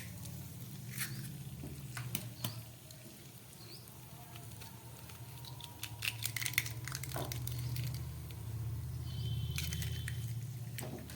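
Two eggs frying over high flame in a wok of mustard oil already used for frying chicken: a soft, steady crackle and spattering patter with scattered sharper pops, fairly quiet and with no talk.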